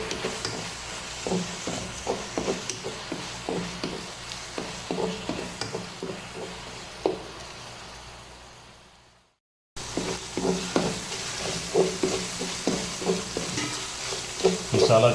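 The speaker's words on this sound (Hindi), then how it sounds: "अच्छी तरह इस मसाले को भून लें।" Spice masala frying and being stirred in a pan, steady sizzle with repeated scraping stir strokes in a rhythmic pattern, close and clear, with a brief gap midway.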